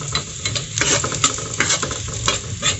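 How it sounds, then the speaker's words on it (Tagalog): Garlic sizzles in a hot pan as it is sautéed and stirred for bamboo-shoot adobo, a steady crackling hiss with scraping stirs, loud and close, without talk. "maggisa na tayo ng bawang"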